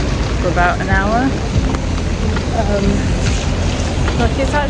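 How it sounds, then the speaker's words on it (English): Steady rain on a city street in Osaka, a loud continuous hiss mixed with wind buffeting on the microphone, while a person talks over it throughout. "I've been walking about in the rain"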